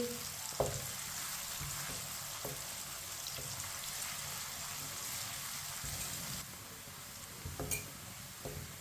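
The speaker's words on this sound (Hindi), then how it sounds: "प्याज को हल्का सा ब्राउन कर लेंगे" Onions fry over medium heat with a soft, steady sizzle as a spoon scrapes and stirs now and then, producing light tapping knocks against the pan.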